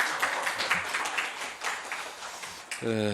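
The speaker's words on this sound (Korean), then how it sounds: "한번 박수 한번 다시 크게 쳐주시기를 부탁드리겠습니다" Audience clapping in a Cheongju city council committee meeting, a moderate, somewhat scattered round of applause that fades near the end as a voice begins speaking.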